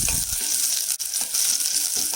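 Onions sautéing in ghee for chicken yakhni soup, a loud, dense, continuous sizzle close up with a brief dip near the middle and no talk.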